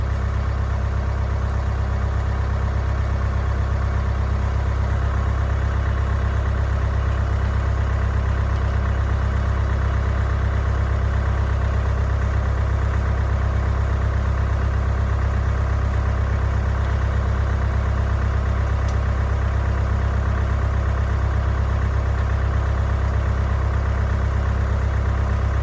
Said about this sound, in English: Let me cut this tractor off.